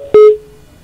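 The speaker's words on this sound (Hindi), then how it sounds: "लगता है शायद ये फोन डिस्कनेक्ट हुआ है यहां पर किरण सर का" A single short electronic beep marks a telephone line disconnecting during a live TV news interview, a sharp tone that trails off into quiet line hiss.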